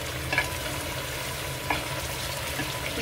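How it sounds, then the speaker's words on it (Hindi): Beef chops for biryani fry and get stirred in a pot, a steady sizzle with a few sharp scrapes of the spoon against the metal, close and alone. "अब इसको अच्छे से हम भून लेते हैं"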